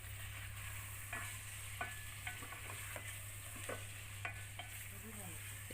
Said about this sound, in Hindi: चिकन को फ्राई करूँगी मैं ऑयल में, प्याज में।